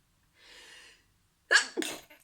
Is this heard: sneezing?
yes